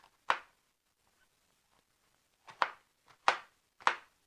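Four sharp knife chops on capsicum (bell pepper) against a cutting board, one single cut followed by a quicker group of three near the end, close and crisp with quiet gaps between them.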